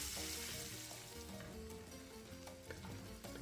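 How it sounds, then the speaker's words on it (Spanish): Chopped onion frying with browned pork ribs in a pan, a steady loud sizzle with stirring scrapes and small clinks throughout. "a esta carne doradita le agregamos la cebolla, lo mezclamos y solamente la vamos a dorar por unos 3 minutos"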